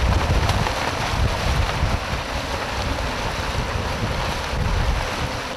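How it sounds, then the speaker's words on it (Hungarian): Strong gale on a seashore in heavy rain, a loud continuous roar of wind buffeting the microphone with rushing surf and rain noise underneath, steady throughout with no pauses. "állati nagy szél van, zúgog az eső"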